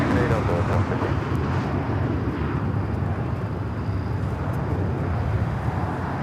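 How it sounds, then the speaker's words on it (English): An Avianca Cargo Airbus A330 freighter lands at LAX. Its engines give a broad, steady rumble mixed with wind buffeting on the microphone, and a voice talks over it. "About to have a Avianca Cargo 330 freighter touchdown here."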